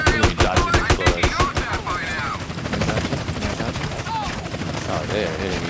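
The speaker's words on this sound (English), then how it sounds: "Maybe they should stop shooting at me." Rapid automatic gunfire in GTA San Andreas targets the player's character, bursts of dense, near cracks rattling on continuously while a person talks over them.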